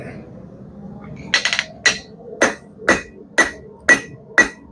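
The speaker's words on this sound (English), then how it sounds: "it looks like it's heated, and we're just gonna start hammering on it." Hammer blows on heated metal at a blacksmith's forge while shaping a chain hook: a quick cluster of strikes, then a steady rhythm of about six loud, ringing, evenly spaced hits, close up.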